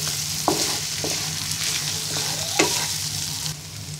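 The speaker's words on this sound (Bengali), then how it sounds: "কিছুক্ষণ পর পর মাংসটাকে কাঠের খুন্তি দিয়ে ভালো করে নেড়ে দিতে হবে" Beef pieces frying in a pan for Bangladeshi kala bhuna, stirred now and then with a wooden spatula: a steady, close sizzle broken by a few distinct scraping strokes.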